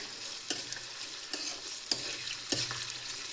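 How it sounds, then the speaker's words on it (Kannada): Onions frying in oil hiss with a steady close sizzle while a spoon stirs them, adding four distinct scraping clanks against the pan at regular intervals, with no voices. "ಸೊ ಈರುಳ್ಳಿ ಕಲರ್ ಚೇಂಜ್ ಆಗೋವರೆಗೂ ಇದರಲ್ಲಿ ಎಣ್ಣೆಯಲ್ಲಿ ಫ್ರೈ ಮಾಡ್ಕೊಳ್ಳಿ"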